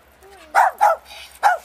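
Several dogs in a group produce three quick barks close by, with a whine just before and a faint voice underneath.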